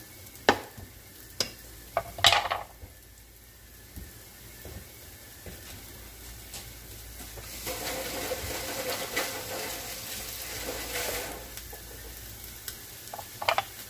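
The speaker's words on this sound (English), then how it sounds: "It's on the sizzle now." Chopped onions sauté in a pan, giving a soft, steady hiss under intermittent clinks and scrapes of a utensil, fairly quiet and close, without speech.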